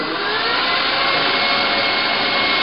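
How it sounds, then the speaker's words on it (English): Egg whites whisked with a pinch of salt for a dark Valrhona chocolate mousse, a steady, dense scraping rush of the whisk running continuously and close without pause. "you whisk the white eggs like this."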